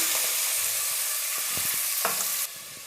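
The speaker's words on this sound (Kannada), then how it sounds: "ಈಗ ಬೇಳೆನ ಸೇರಿಸ್ಕೊಳ್ತಾ ಇದ್ದೀನಿ ಒಗ್ಗರಣೆಯಲ್ಲಿ" Lentils are stirred into a hot tempering of oil and curry leaves, giving a loud, steady sizzle broken by scraping stirs, with the frying dropping quieter near the end.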